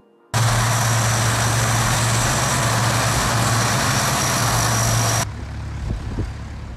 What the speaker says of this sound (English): Wow, look at that. Lockheed C-130 Hercules.